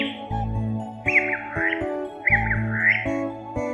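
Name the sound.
birds chirping, story sound effect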